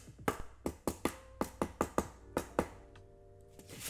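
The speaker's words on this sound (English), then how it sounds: "Do styrofoams make sound if you clap them together?" Pieces of styrofoam clapped together by hand: about a dozen sharp, dry, hollow taps in a quick irregular rhythm, close and fairly loud, ending with a brief faint rustle.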